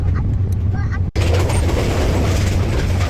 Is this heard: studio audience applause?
no